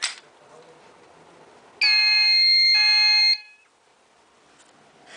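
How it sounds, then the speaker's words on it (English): A smoke alarm sounds during a test, one loud continuous piercing electronic tone lasting about a second and a half, then cutting off into quiet room noise. "eBay test alarm."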